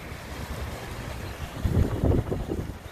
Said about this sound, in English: Today it's a little breezy